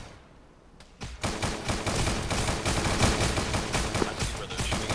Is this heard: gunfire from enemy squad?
yes